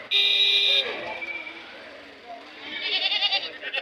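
A ram lamb bleats at a busy livestock market before the Bakrid festival, a loud, wavering cry opening the clip and a second, shakier bleat near the end, with people talking close by in between.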